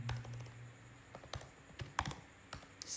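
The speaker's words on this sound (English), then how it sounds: "I have to type python 3" Keys clack on a computer keyboard as a command is typed, a quick irregular run of close, crisp taps with short pauses between bursts, quiet and alone.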